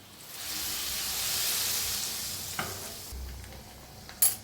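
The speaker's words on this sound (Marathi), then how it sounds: "आणि फोडणी ओतूया ह्याच्यावर." Hot tempering poured over freshly cooked palak paneer with the gas turned off sets off a loud, steady sizzle that swells and then eases, with a few clinks of a pan or spoon near the end.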